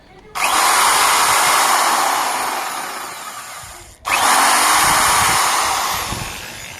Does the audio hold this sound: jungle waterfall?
no